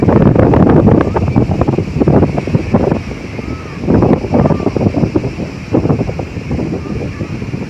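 Strong wind at the seashore beside a highway, buffeting the microphone in heavy gusts that rise and fall, loud and close, with a faint surf-like rush beneath.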